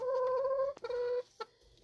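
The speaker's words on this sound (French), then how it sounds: "Ils sont tellement tannantes, les poules." Hens on a countryside farm give a few close, clear clucking calls with short pauses between them. No voices are present.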